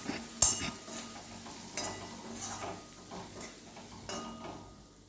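Spoon scraping and clinking in a cooking pan as coriander-cumin powder and turmeric are stirred into frying okra, with a soft sizzle beneath several close metallic knocks and scrapes.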